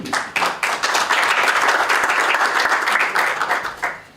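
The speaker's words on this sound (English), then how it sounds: "Let's give one more round of applause." Audience applause at a launch event, a dense burst of clapping from a crowd that swells quickly, holds steady and begins to thin toward the end.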